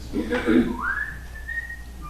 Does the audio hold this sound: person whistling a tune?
yes